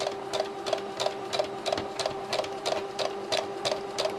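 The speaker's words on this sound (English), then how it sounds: "And start to sew. And I'm going to sew quite slowly so that I can manoeuvre around the corners." A sewing machine stitches fabric at a slow, steady pace, its needle beating in a regular rhythm of close, clear clicks with a constant motor whine underneath and no talk.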